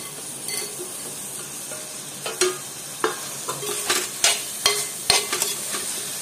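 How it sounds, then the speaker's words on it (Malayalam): Fried chicken is stirred into a wet tomato masala in a pot. A low bubbling simmer sits beneath a run of spatula scrapes and clinks against the metal that grows busier after the first couple of seconds, close up with no talking. "നന്നായിട്ടൊന്ന് മിക്സ് ചെയ്തിട്ട് നമുക്കൊന്നും കൂടി മൂടി വെക്കാം"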